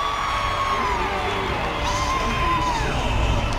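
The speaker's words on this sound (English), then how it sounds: "You can hear the reaction from the crowd." Crowd cheering and whooping at the 2014 WNBA All-Star basketball game, a steady roar of a large arena crowd under faint commentary.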